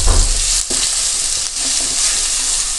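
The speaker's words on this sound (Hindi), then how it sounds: "अब मैं इसमें 1 टेबल स्पून ज़ीरा, 1 टेबल स्पून राई और 1 टेबल स्पून अदरक लहसुन पेस्ट ऐड करूँगी। इसे हम थोड़ी देर के लिए फ्राई कर लेंगे।" Cumin, mustard seeds and ginger garlic paste frying in a pan, a steady loud sizzle with stirring scrapes throughout, close up and without talk.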